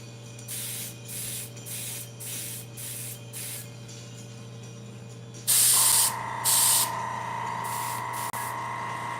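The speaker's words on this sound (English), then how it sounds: "Just do a little test spray. Make sure there's paint coming out." Airbrush giving a short test spray of paint while building a Sherman tank model: several brief hissing bursts over a steady compressor hum, then two louder, closer sprays near the end.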